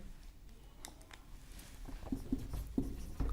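Chalk or marker writing on a board during a chemistry lesson, faint soft scratching and tapping strokes in a quiet room, with a few sharper taps near the end.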